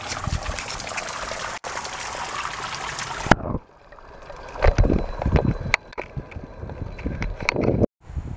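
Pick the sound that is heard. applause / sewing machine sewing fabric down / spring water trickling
spring water trickling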